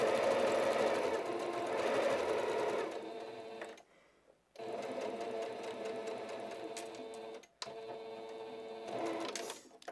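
A sewing machine stitches the seam of an elasticated skirt in loud, steady whirring runs, stopping briefly twice before starting up again, with no talking over it.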